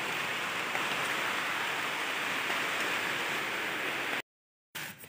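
Steady rain falls outdoors in a dense, even hiss that fills most of the clip, then cuts to a brief silence before the downpour returns at the end.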